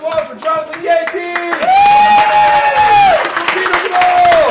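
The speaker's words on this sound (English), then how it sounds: "Big round of applause for Jonathan Yankee!" An improv comedy show audience claps and cheers, with high sustained whoops and shouts riding over steady clapping that grows fuller midway.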